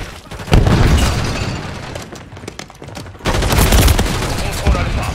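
Grenade explosion and gunfire in the video game Call of Duty: a loud, dense stretch of rapid shots and blasts up close, easing off briefly before a fresh heavy burst of fire, with battle voices mixed in.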